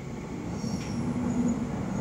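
Inside a Tsukuba Express TX-3000 series commuter train under way, a steady low rumble fills the car with a faint high wheel squeal rising briefly near the middle.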